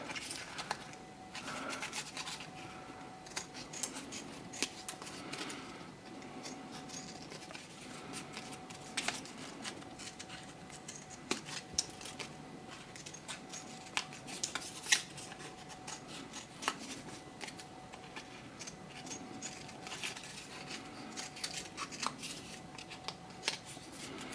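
Scissors cutting out paper flowers, a faint, close series of snips and rustling paper scrapes that continue steadily with quiet gaps.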